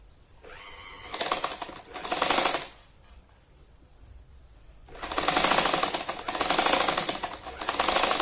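An electric sewing machine stitches a fabric roti cover in straight seams. Two loud bursts of rapid mechanical stitching are separated by a quieter pause, with the second run lasting longer and more steadily.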